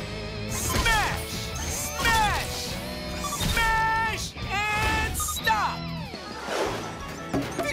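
A robot smashes things in a Blaze and the Monster Machines kids' game, with repeated crashing impacts, whooshes and bright cartoon sound effects layered over music in a busy, rhythmic sequence.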